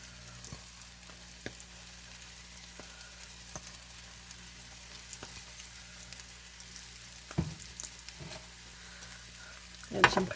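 A ham and cheese omelet sizzles quietly in a frying pan, a soft steady crackle broken by occasional scraping stirs and a louder clatter near the end.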